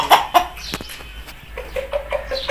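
An aseel chicken clucks close by, with a couple of sharp calls at the start, then a run of soft, evenly spaced clucks toward the end over faint background noise.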